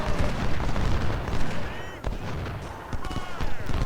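Gunfire and artillery in the video game Ultimate General: Civil War at the Battle of Salem Church, a thick, steady crackle of musketry with heavier booms mixed in, a distant battlefield din with a voice talking over it.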